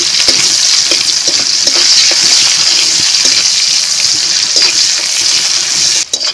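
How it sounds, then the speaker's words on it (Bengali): Chopped onion with bay leaf and cumin seeds frying lightly in oil in a pan, a steady, loud hiss and sizzle throughout with small crackles, no voices. "তেজপাতা, কুচানো পেঁয়াজ। পেঁয়াজ আমি হালকা করে ভেজে নেব।"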